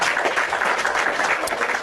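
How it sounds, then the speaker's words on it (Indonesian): Moderate audience applause at a live debate broadcast, a brief steady patter of many hands clapping at a modest distance. "Kita kasih tepuk tangan dulu pada Akbar Yoga."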